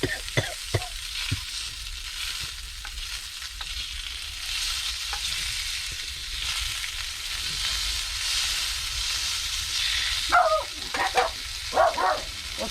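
A dog barks in short bursts near the end, over a steady sizzling hiss of sausages frying throughout.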